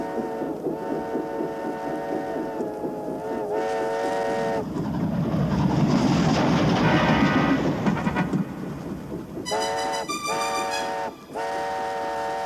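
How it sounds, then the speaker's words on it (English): An animated mail train passing with a steam whistle, heard as repeated tonal whistle blasts over a steady rumbling rush of the moving train, fairly loud and close. "That's a mail train, isn't it?"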